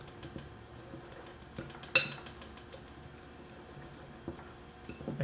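A fork clinks and scrapes in a bowl while mixing packed brown sugar, white granulated sugar and cinnamon for an apple crumb pie topping, with soft irregular taps and one sharper clink, close and quiet.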